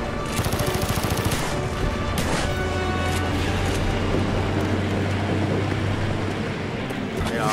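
Dense, continuous gunfire rattles nonstop in Call of Duty: Black Ops, loud and close, with rapid bursts layered over a droning engine-like rumble.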